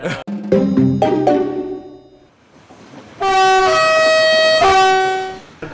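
Train horn blaring loudly beside railway tracks, a few short honks followed by a long sustained blast, close and harsh with no talking.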